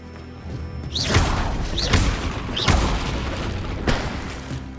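Confringo fire spell blasts cast in Hogwarts Legacy on Xbox Series X: three close, loud whooshing bursts with rising streaks, each landing with a deep booming impact, then a fourth sharper hit, over steady game ambience.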